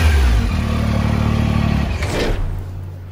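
A black Honda Tiger motorcycle engine idles loudly and steadily close by, then revs briefly and fades.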